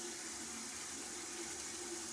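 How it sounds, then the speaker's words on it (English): Water runs steadily from a bathroom tap over a cleansing brush during a morning skincare routine, a continuous, even hiss of flow at close range with no talking. "I'm just going to put some of this cleanser on this brush, run it under some water"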